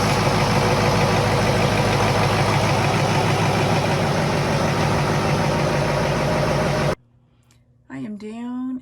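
A Caterpillar 3208 diesel marine engine of 210 HP runs in a boat's engine room, a loud, steady close-up drone with knocking rhythm that cuts off abruptly near the end, leaving quiet room tone and a brief voice.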